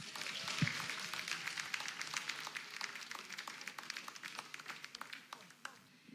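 Audience applause at a local music event welcoming a singer, a soft, dense patter of many hands heard from a distance, steady and fading slightly toward the end.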